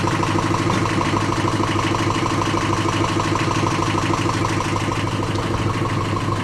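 A sailboat's inboard engine idles steadily in the engine room, its low, even rumble and mechanical vibration continuing unbroken and fairly loud throughout.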